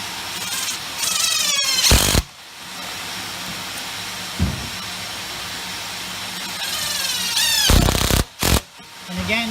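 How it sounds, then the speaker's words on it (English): A power driver runs number 8 two-inch stainless steel deck screws into pre-drilled holes in a small light trap fan housing, with two loud bursts of whirring separated by quieter stretches and short pauses. "you'll insert a screw into every one of the pre-drilled holes"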